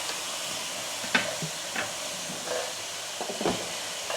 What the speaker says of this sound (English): So while those onions are sizzling